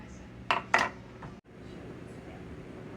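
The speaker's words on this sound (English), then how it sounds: "let me cut off a piece of cornbread here" A knife cuts a piece of warm cornbread in a cast iron pan, making two quick clinks close by, followed by low room noise.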